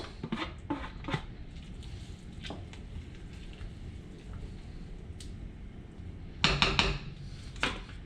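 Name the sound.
stirring green onions into simmering fish soup pot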